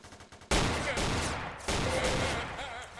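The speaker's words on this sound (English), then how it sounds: "he's shooting" Heavy gunfire in Garry's Mod: a few quick shots, then loud continuous bursts that cut off and start again, with a brief voice near the end.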